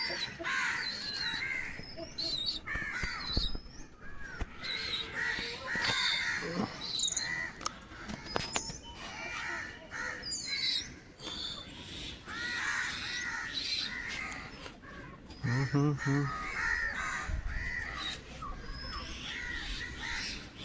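Crows caw repeatedly around a pigeon loft, fairly faint and scattered over a busy outdoor background with other birds and insects.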